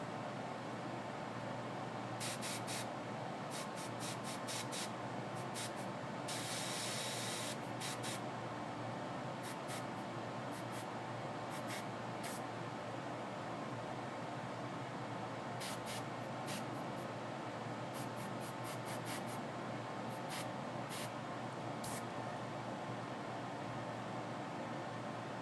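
An airbrush sprays paint with a steady airy hiss, broken by a series of short bright bursts of spray as the trigger is pressed and released, close by with no talking.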